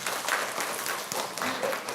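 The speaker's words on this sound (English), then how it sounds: "We clap our hands." Schoolchildren clap their hands together in an elementary school auditorium, a steady dense patter of many small hands lasting about two seconds, fairly close and without talk over it.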